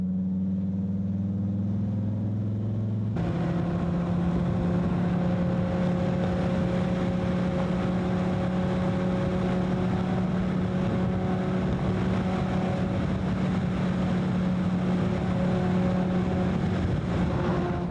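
A Dodge Viper driven fast around the Indianapolis Motor Speedway track, a loud steady engine roar with sustained tonal drone and wind rush that jumps in after a quieter opening and holds continuously.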